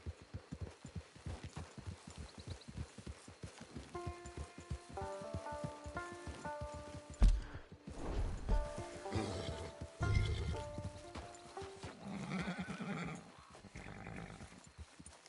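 Rhythmic clip-clop of horse hooves at a steady trot in the video game Nioh, with music tones entering midway and a horse snort or whinny, all fairly quiet and close.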